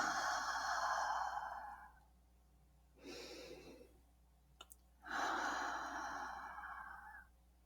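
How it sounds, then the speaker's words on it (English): Slow, deep breathing during a guided meditation: two long exhalations with a softer inhale between, plus a faint tick, close and quiet with no talking. "Take a few slow, grounding breaths"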